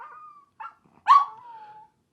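A dog named Bonnie gives a short whine, a brief yip, then a sharp bark that trails into a long high whimper, close and alone with no talk over it.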